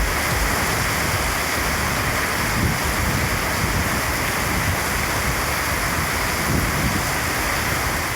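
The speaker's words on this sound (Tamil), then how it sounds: "சிதம்பரம் சுற்றுவட்டார பகுதிகளில் இடி மின்னலுடன் கூடிய கனமழை பெய்தது" Heavy rain from a thunderstorm pours down around Chidambaram in Tamil Nadu, a dense, loud, unbroken hiss and roar of falling water with no voices over it.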